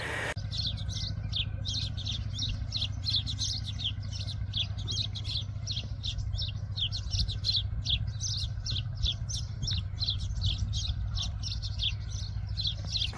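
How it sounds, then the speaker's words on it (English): Small birds squabble near a house rooftop, a dense run of rapid high chirps and twitters repeating throughout, over a constant low rumble like a distant engine or traffic, with no voices. "Little birds are fighting, and fights are like that every day."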